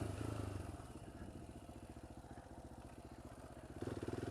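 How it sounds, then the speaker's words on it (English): A Polaris Outlaw 525 quad engine runs close by with a steady, fast pulsing throb that holds throughout, swelling louder near the end as the throttle opens. "I'm riding a quad! I'm riding a Polaris Outlaw"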